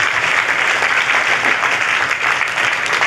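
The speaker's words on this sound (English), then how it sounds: "Clap, clap for Jesus" A church congregation claps loudly and continuously in a dense, even wash of applause during a healing and testimony service.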